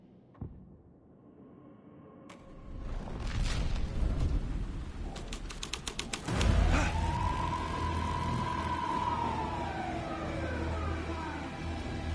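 A police car siren in Alan Wake 2 winds up and sweeps in a long rising and falling wail amid rumbling engine noise and clattering mechanical sounds, fairly close and steady.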